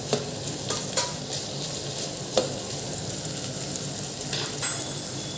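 Green vegetables sauté in a pan with a steady soft sizzle, broken by occasional sharp clinks and scrapes of a utensil stirring against the metal; close and alone, with no talking.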